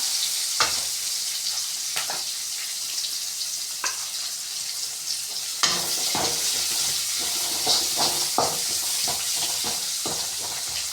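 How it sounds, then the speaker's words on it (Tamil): Chopped onions sizzle and fry steadily in hot oil for a chow chow kootu, with a constant bright hiss broken by occasional clinks and scrapes of a spoon stirring the pan. "நல்லா வெங்காயத்தை வதக்கிக்கலாம்."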